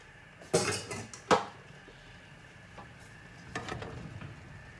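While soup is being cooked, metal pots and a lid are moved about the stove, making two loud clanks, a softer knock, and a cluster of lighter clinks near the end.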